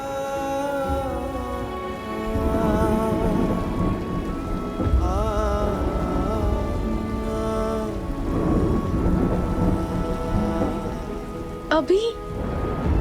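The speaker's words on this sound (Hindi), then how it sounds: "बारिश भी बहुत हो रही है" Heavy night rainfall with rolling thunder, a loud steady downpour drumming on surfaces throughout, with a background musical score playing over it.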